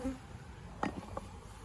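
Honey bees are being scooped from a hive for a mite wash, giving a faint buzzing with a few brief, sharper bursts as bees fly close by.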